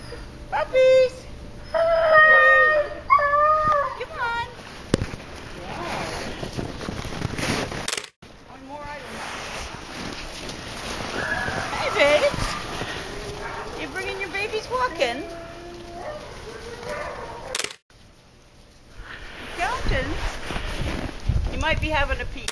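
Puppies yip, whimper and bark in high, excited bursts, mostly early on, amid people talking nearby and outdoor background noise.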